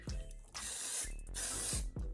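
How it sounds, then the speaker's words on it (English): Rock Your Hair volumizing hairspray sprayed onto hair in short bursts: close, hissy aerosol sprays, about three quick puffs in two seconds. "Now I'm gonna use a little bit of this hairspray. It's the volumizing hairspray by Rock Your Hair"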